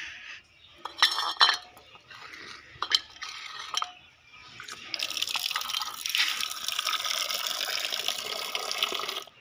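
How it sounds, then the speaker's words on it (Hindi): Clinks and taps of a pet's bowl being handled, then a steady stream of water pouring into it for several seconds, close by. "तो यहाँ से हम इसे पानी डालते हैं"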